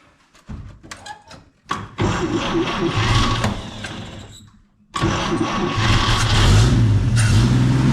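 A 1951 Chevy pickup engine cranks with the ignition in short bursts, then turns over steadily in two long loud cranking runs separated by a brief pause, close up.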